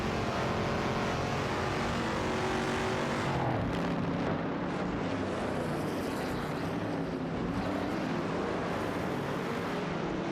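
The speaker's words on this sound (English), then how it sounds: "Surayanbot is behind the wheel of an Oldsmobile 442, while Amin-san is maneuvering a Dodge Dart Hemi Super Stock." An Oldsmobile 442 and a Dodge Dart Hemi Super Stock race in a video game, engines roaring loud and continuous, with a surge of passing-car noise partway through.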